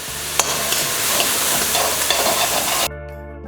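Leftover jowar roti pieces stir-fry in a hot pan on high flame, a dense loud sizzle with scraping stirs and occasional sharp clinks, cutting off abruptly near the end.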